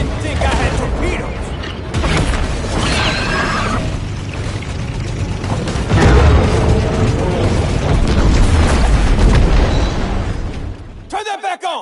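Heavy booming underwater explosions from torpedoes in the shark game Maneater rumble loudly for most of the stretch, mixed with game sounds and a voice talking, before cutting off abruptly near the end.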